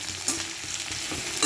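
Sliced bitter gourd sizzles in hot oil in a pan over medium flame, a steady close frying hiss with faint stirring scrapes, no voices.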